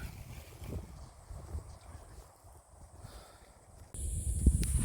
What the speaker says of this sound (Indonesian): suara anginnya ini seperti kapal jet suara anginnya